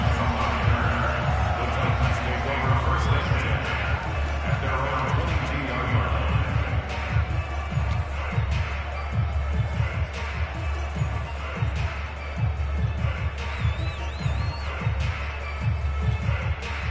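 A large stadium crowd roars steadily ahead of an NFL game between the Las Vegas Raiders and the Tennessee Titans, loud and continuous throughout, with a commentator talking over it.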